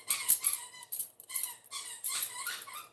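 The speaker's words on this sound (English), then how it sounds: "If you hear the squeaking in the background, that is my dog. Going to town on his toy." A dog chewing a squeaky toy indoors, producing rapid bursts of high, thin squeaks in an irregular rhythm, fairly close and loud with brief pauses between clusters.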